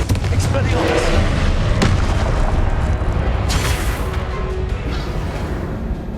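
Spell blasts boom and crackle in the Hogwarts Legacy video game, a dense run of loud explosive impacts layered with combat noise, and a voice talks over them.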